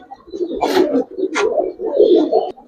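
Giribaz pigeons coo in a loft, a close, throaty burble rising and falling in several overlapping phrases, with a couple of brief sharper flutters between them.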